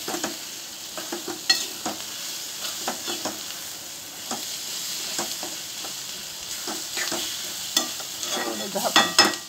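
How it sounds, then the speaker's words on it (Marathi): Eggplant bharit being stirred and cooked in a pan, with a steady sizzling hiss under repeated scraping and clicking spatula strokes that grow busier toward the end. "आपण ह्याच्यात सगळं टाकलंय, नुसतं आता मिक्स करायचं"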